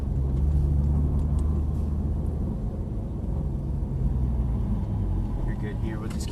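A Porsche GT3 engine drones steadily and loudly throughout while driving, a continuous low rumble with no clear revving peaks.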